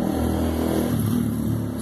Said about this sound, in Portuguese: Barulho de carro e de moto.